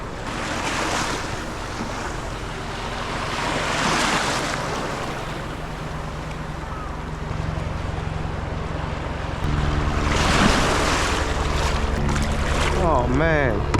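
Ocean waves and surging water at a Perth abalone diving spot, heavy swells washing and churning near the microphone along with wind buffeting and occasional bubbling, loud and continuous.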